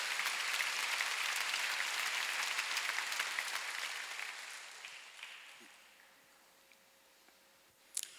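A church congregation at a Korean Sunday worship service applauds in a dense, loud wash of clapping that gradually thins and fades to near quiet, ending with a sharp click.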